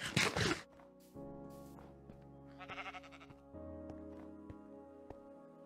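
A sheep in Minecraft gives one loud bleat at the start, followed by calm tonal game music and a few soft clicks.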